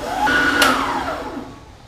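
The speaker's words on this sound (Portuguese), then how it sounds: "Você vai bater bastante, gente, até ficar bem branquinha a sua massa" An electric mixer whirs steadily, beating butter with brown and white sugar into a pale creamy mass for gingerbread Christmas cookies. The motor drones close by, with a brief high pitch sweep.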